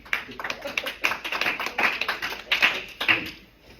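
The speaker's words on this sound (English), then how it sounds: "let's give them a round of applause, please." A small audience at a presentation gives a brief round of applause, sparse and uneven claps close by, rising and then thinning out toward the end, fairly quiet.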